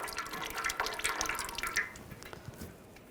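Transmission fluid dripping from the fill hole of a 2009–2010 BMW 535i xDrive transmission pan, a quick run of close wet drips and splashes into a pan that thins out and quiets toward the end, with no talking.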